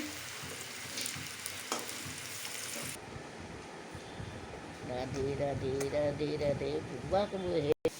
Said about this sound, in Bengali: তারপরে কড়াইয়ে ভালো করে তেল দিয়ে ভেজে নিচ্ছে।